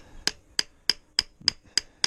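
Seven light, evenly spaced metallic taps as a socket drives a gearbox oil seal into place on a 2021 Yamaha 450 YZF motocross bike, close and crisp with quiet gaps between blows.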